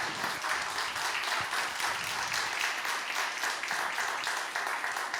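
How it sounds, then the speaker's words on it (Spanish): Steady applause from a church congregation fills the space, dense and continuous at a moderate level throughout with no voices standing out. "un aplauso al Señor"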